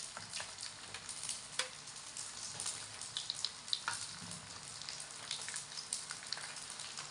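Shrimp dumplings fry in hot oil with a steady, dense sizzle and crackle, an even bed of spitting pops continuing throughout with no voices.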